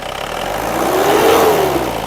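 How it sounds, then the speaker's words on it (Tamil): A used car's engine revs up at a car shop, rising from a steady run to a louder peak and easing back, close and clear over a noisy background. "ரேஸ் பண்ண சொல்றேன் பா ரேஸ் பண்ணு"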